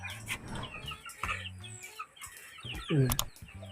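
Chickens cluck in short bursts nearby, with a louder squawk near the end and some background shuffling.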